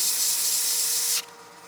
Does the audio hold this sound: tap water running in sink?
no